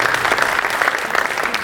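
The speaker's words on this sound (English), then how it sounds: "You can clap it up for yourself for that." Brief burst of audience clapping at a community arts day festival, dense and close, with no voice over it.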